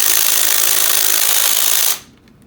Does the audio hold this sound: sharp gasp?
no